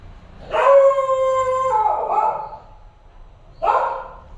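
A pet dog howls in a long drawn-out tone that wavers and trails off, then starts a second howl after a short pause, loud and close.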